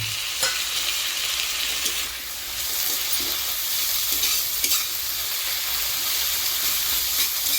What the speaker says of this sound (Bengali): ভেজে নেব যতক্ষণ না আদা রসুনটা নিজের কাঁচা গন্ধ ছাড়িয়ে দিতে পারছে।